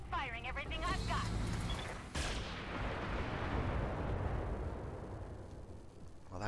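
Mech in the BattleTech video game unloading all its weapons at once, a dense roaring barrage of heavy cannon-like blasts and rumbling explosions sustained for several seconds, loud and close, with brief vocal sounds at the start.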